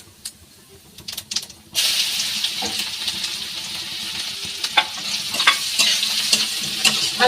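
Garlic frying and sizzling in hot oil spiced with cardamom, cloves, cinnamon and cumin seeds, a steady close hiss that jumps up loudly after a quieter start, with occasional stirring clicks.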